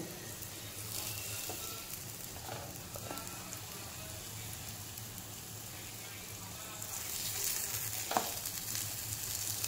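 Potato patties fry in a pan over a low gas flame, making a soft, continuous sizzle with a few faint clicks, growing slightly louder toward the end.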